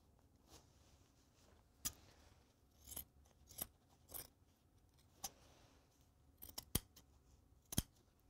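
Scissors snip through fabric for a sofa bed slipcover, giving sharp, isolated clicks and crisp cuts spaced irregularly over a faint, quiet background.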